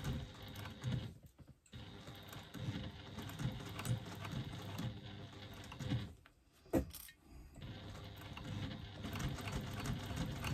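A sewing machine fitted with a size 16 needle stitches slowly through bulky foam seams on a pop-it pouch, running in steady bursts with two short pauses, close and fairly quiet.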